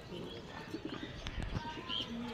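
A female pigeon of the Beji line coos softly in a few low murmurs, faint and close, amid quiet background noise and light chirps.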